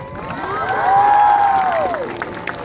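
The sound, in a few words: children giving a big loud cheer for teachers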